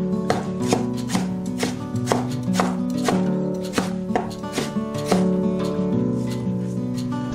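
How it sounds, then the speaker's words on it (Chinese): A knife chops peeled potato into shreds on a cutting board, a steady run of quick, crisp taps close up, under soft background music. "去皮后切成丝"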